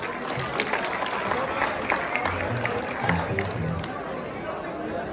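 An audience applauding and cheering for participants at an inter-college competition at a medical university, steady clapping mixed with crowd chatter and whoops, with a voice over the crowd.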